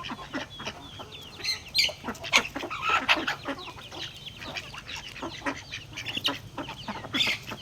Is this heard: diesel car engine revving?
no